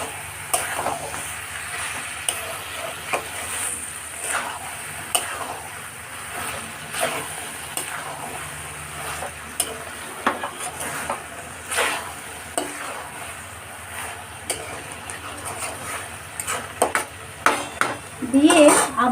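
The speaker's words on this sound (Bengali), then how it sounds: "চিনিটা দিয়ে আমি আরেকবার ভালো করে নেড়ে দেবো।" Fig curry is stirred in a pot after sugar goes in, with a soft ongoing sizzle and repeated scraping, clinking spoon strokes against the pot, a few louder knocks near the end.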